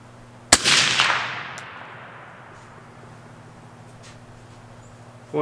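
A .22 ARC rifle fires one sharp, loud crack that rolls away in a long outdoor echo, and a second shot starts right at the end.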